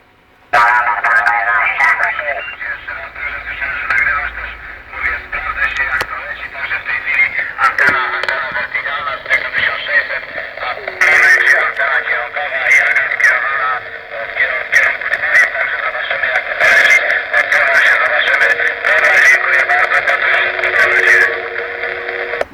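Amateur radio transmission from a mobile station in Alicante, Spain, played through an external loudspeaker: a steady, band-limited voice over constant hiss and faint tones, continuous for the whole span.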